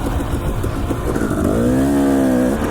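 A dirt bike engine revving steadily while being ridden, loud and close throughout with a rising rev toward the middle and no voices.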